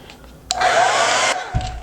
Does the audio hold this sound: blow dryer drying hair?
yes